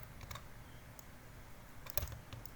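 Computer keyboard keys pressed during a photo-editing tutorial, a few light, scattered clicks at close range with a sharper tap near the end, quiet and without talk.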